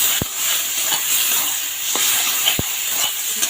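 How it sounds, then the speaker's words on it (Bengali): Eggplant is stirred in a frying pan, with a steady steamy hiss and sizzle underneath and a few sharp scrapes and knocks of the spoon against the pan at irregular intervals, close by. "এইটা দিয়ে বেগুনটা দিয়ে একটু নাড়িয়ে নিই"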